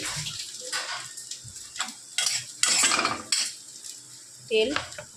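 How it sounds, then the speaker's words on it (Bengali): Fish heads frying in oil in a wok, with bursts of sizzling and scraping of a utensil against the pan, fairly close and moderately loud, no talk over it. "তার মাছের মাথাটাকে ভালো করে ভেজে নেবে।"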